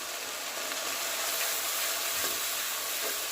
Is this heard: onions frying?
yes